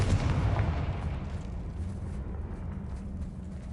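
Confringo fire spell blast in Hogwarts Legacy, a loud booming burst that rumbles and slowly fades over a few seconds, heard alone without speech.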